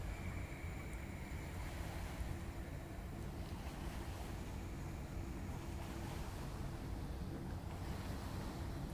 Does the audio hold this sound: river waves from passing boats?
yes